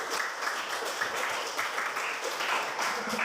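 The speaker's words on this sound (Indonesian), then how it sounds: "Jadi kita kasih aplaus dulu untuk kelompok 1 kami." Classroom applause for the first student group, a steady dense patter of many hands clapping nearby for a few seconds, with faint voices underneath.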